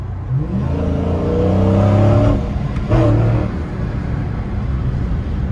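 A Dodge Challenger R/T Widebody V8 revs up loud and close, its engine note climbing for about two seconds, then a second sharp blip of the throttle before it settles into a steady rumble.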